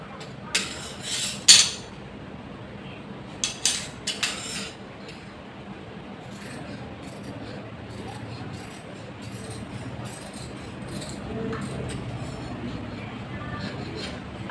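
Scissors cut fabric for a Naira-style kurti with a few crisp, close snips early on, then quieter rustling and handling of the cloth over a soft room background.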